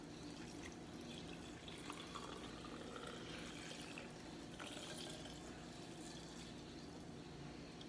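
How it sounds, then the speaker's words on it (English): Water and salt are poured into a pickle jar, a steady, faint trickling and gushing fill that runs continuously without speech. "next you're gonna add your water and salt."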